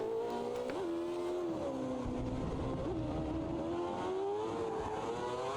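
A V8 Formula 1 race car engine at the Chinese Grand Prix in a racing video game whines at high revs, its pitch rising and dipping through gear changes and corners, loud and continuous with no talk.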